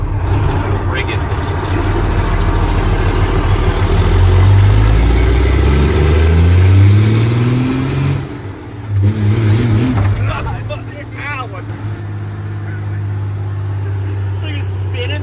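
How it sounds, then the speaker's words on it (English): A high-horsepower semi pull truck revs hard and spins its tires, a loud, low engine roar that climbs in pitch, dips briefly near the middle, then holds steady, with people talking over it. "So you're spinning the tires."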